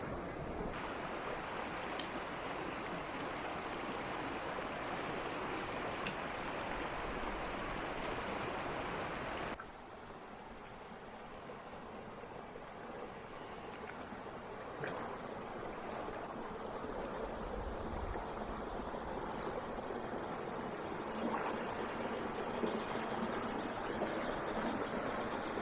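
A very cold creek in the Rincon Mountain District of Saguaro National Park flows in a steady, loud rush of water, with a brief drop in level partway through. No one speaks.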